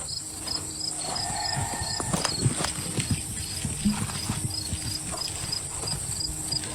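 Horses stir and shift outdoors at night, their hooves clopping irregularly at close range while crickets chirp steadily in the background.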